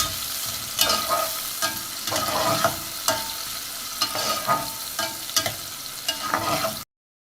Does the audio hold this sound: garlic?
yes